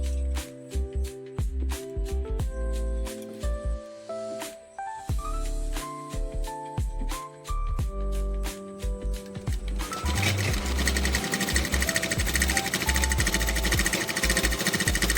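A sewing machine double-stitches curtain fabric with a loud, rapid, steady mechanical hammering, interrupted by brief stops, then running faster and denser toward the end, with no talk.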